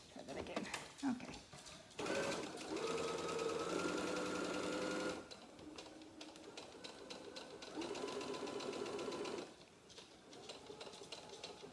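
A sewing machine stitches a fleece panel blanket in loud, steady bursts of whirring that stop and restart several times, with a person talking briefly between runs.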